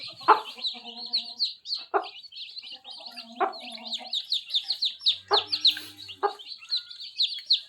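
A hen clucks in low, intermittent bursts while her fifteen chicks peep constantly in a high, busy chorus close by.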